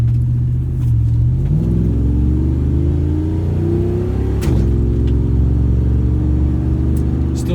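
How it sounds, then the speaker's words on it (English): Ford F-150 pickup, a 1997–2004 tenth-generation truck with a custom tune, pulling hard under acceleration: a loud, steady exhaust drone that climbs in pitch, drops briefly at a gearshift around the midpoint, then rises again. "Maybe you can hear the exhaust in this this pull I'm about to do."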